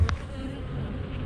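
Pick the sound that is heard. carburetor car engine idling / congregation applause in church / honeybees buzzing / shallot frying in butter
honeybees buzzing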